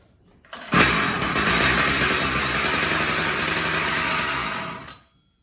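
Atom lawn edger engine bursting into life after a fuel line and filter repair, revving hard with a loud, high buzzing whine for several seconds before being cut off abruptly.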